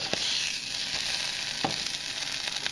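An egg sandwich with salsa fries in a pan, a bright steady sizzle throughout with a couple of faint scraping taps as it is flipped.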